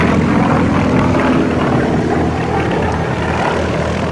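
Russian M14P radial engine with a large propeller on a 360 horsepower aerobatic plane at an air show, a steady loud broadband roar and drone held throughout without talk.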